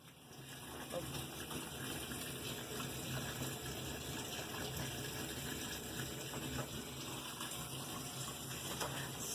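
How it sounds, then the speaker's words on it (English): A washing machine on an auto-sense cycle fills with water in a steady, continuous gushing rush, like a tap running hard, close by and unbroken throughout. "So, y'all see that I got that washer going."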